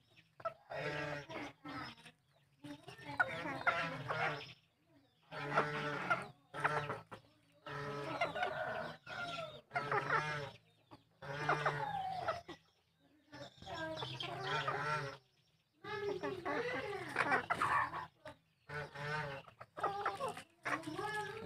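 Chickens cluck repeatedly in short bursts with gaps between, and a rooster crows among them, all fairly close in a farmyard of F1 cross chickens, including red and yellow roosters.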